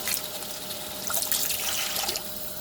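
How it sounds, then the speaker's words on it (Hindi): Water pours into a cooking pot for peas pulao, a faint steady splashing stream with no talk over it. "ये जी 8 कप पानी हमने इसके अंदर शामिल कर दिया।"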